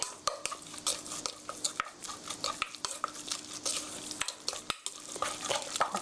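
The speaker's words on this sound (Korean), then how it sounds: "고루 잘 섞어주시고요." Ground meat for hamburger steak is worked by hand in a bowl, giving soft, wet squelching and slapping strokes in an irregular rhythm, close and fairly quiet, with no voice.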